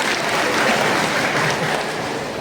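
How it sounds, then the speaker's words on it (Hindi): A gathering of devotees at a Shiv Guru discussion meeting in Simrahi, Supaul breaks into continuous, close applause, a thick wash of clapping that holds steady throughout. "फिर ताली बजा दिए"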